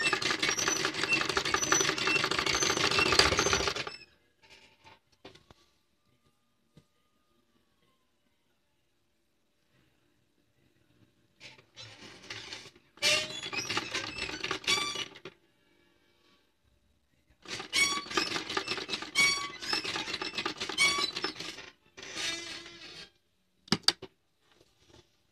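Sewing machine stitching a boat neck over buckram stiffener, heard in several bursts of steady mechanical running separated by pauses, close and fairly loud.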